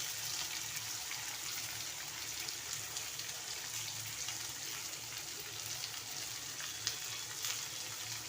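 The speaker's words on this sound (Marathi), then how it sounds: "आता हा कांदा फ्राय करायला टाकते" Onion frying in a pan crackles with an even, continuous sizzle close by, steady and fairly quiet with no other sounds on top.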